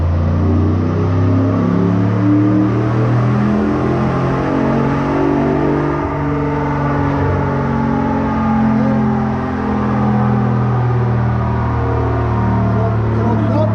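A 2013 Ford Raptor runs hard on a dyno, its engine droning loud and steady at high revs for the whole stretch, a continuous close rumble with no pause or talk.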